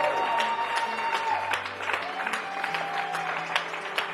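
Audience at a motivational talk cheers and claps on cue, a dense sustained burst of applause with scattered shouts filling the room steadily from start to finish.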